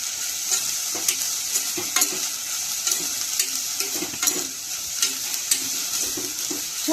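Moth beans fry in oil for a spicy rassa vada, a steady sizzle broken by repeated scrapes and clicks of a spoon stirring the pan. The sound is close and continuous, and no one speaks.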